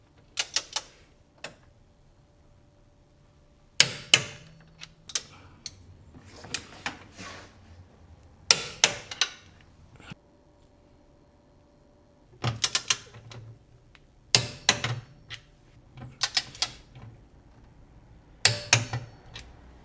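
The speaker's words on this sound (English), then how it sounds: "Now we're gonna torque everything down." A torque wrench clicks in short, sharp bursts while the bolts of a Toyota Supra strut tie brace are tightened. The clusters of crisp, close ratchet clicks come in several separate rounds with quiet pauses between them.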